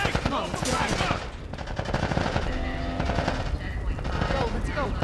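Rapid bursts of automatic gunfire from a firefight in the video game The Last of Us Part I, loud and dense throughout, with shouted voices mixed in.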